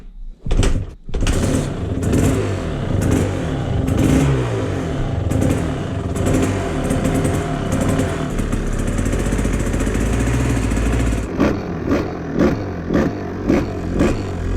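A rich-running two-stroke engine fires up without choke and revs as the throttle is cracked, bursting into loud, rasping blips near the start, then settling into a steady, buzzing idle broken by several sharp revs toward the end.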